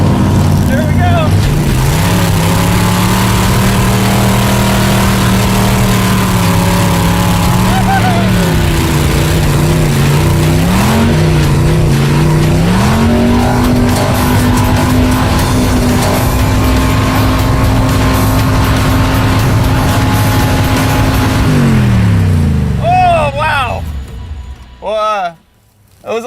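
A Corvette-engined kart revs hard as it carves around a bowl, the loud engine droning and shifting pitch up and down over about twenty seconds, with tire squeal mixed in before it fades off and a few voices come in near the end.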